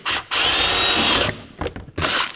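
A power drill bores out rivets from a metal plate, loud close high-pitched whining bursts, one long run of about a second then shorter starts and stops, with no talking.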